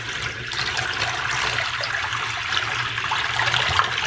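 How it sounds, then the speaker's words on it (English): Hot boiling water flushing down a clogged sink drain, a continuous close rushing and gurgling of water that stays steady for several seconds and grows slightly louder near the end, without any voices. "The next thing is you're gonna take a big jug of hot boiling water and you're gonna dump it down your drain."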